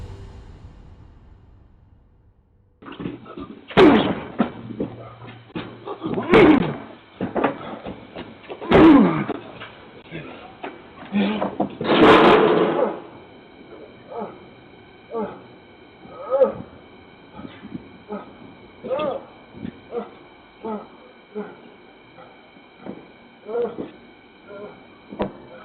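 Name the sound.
man slamming his body against a front door, loud banging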